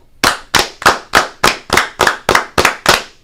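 Ten loud, sharp hand claps in a steady, evenly spaced rhythm, close by and alone with no talk.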